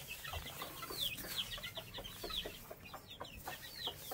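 White Kelso chickens cluck softly and repeatedly nearby, short clucks coming in an irregular stream over faint background noise.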